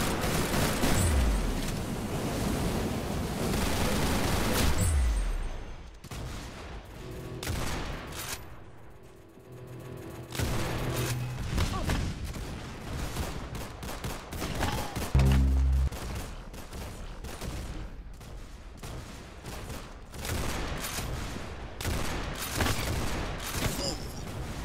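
Gunfire in the shooter game Arsenal crackles in dense bursts and single sharp shots across the whole stretch, loud and close, with brief lulls and heavy booming impacts, and no voices.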